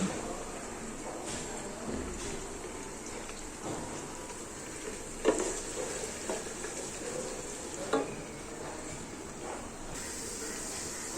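Onion frying in a pan, a continuous close sizzle with occasional stirring scrapes and clanks of the utensil.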